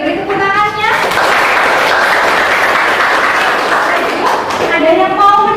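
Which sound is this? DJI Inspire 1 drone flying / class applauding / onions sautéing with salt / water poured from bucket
class applauding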